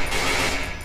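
A gunshot in the horror video game Cry of Fear, a loud, dense burst of gunfire filling under a second with no speech.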